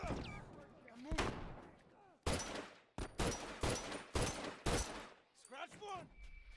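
Gunfire in a shooter video game: several loud bursts of shots in quick succession, separated by short gaps, with voices talking and calling out amid the shooting.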